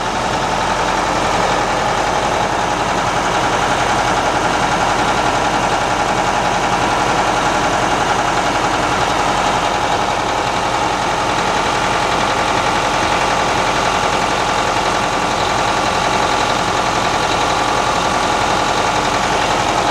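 A 1982 Ford LTL 9000 truck's Detroit 8V92 two-stroke diesel, muffled by factory mufflers between the frame rails, idles with a steady, even rumble and light knock, close and continuous throughout.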